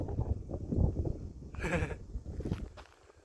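Cows by a roadside in the Arizona borderlands give a loud, short bellow or bleat up close, rising over steady rumbling background noise.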